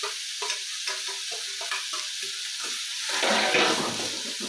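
Ingredients for horse gram saaru are dry-roasted in a pan, giving a soft continuous sizzle with light scraping and stirring strokes, swelling into a louder hiss near the end.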